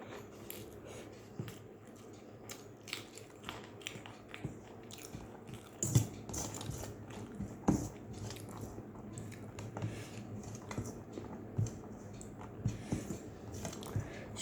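Someone eats home-cooked Bengali food, with soft, close chewing and occasional crisp bites and squishy mouth sounds repeating irregularly over a quiet room.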